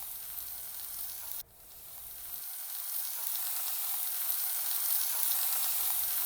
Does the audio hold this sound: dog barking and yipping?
no